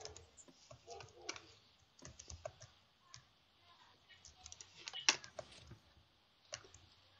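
Close, quiet clatter of typing on a computer keyboard in bursts of quick keystrokes, with faint talk nearby during a Minecraft game session.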